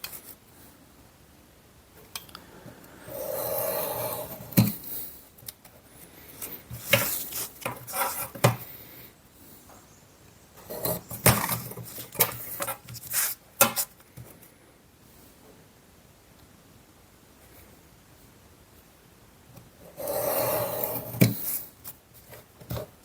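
Scissors or a blade cut out a homemade gasket for a Briggs and Stratton engine, giving bursts of close snipping and scraping with brief pauses between, and no talking.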